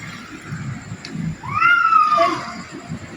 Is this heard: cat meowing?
yes